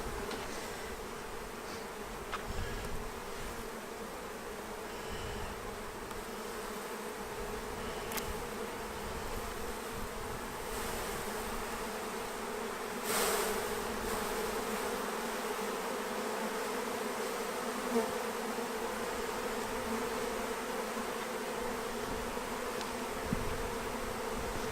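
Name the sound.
honey bees buzzing around beekeeper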